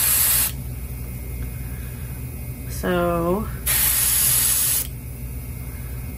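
Two hissing bursts of an airbrush spraying paint patterns onto a custom trout net, the second longer, with a brief spoken word in the quiet gap between them.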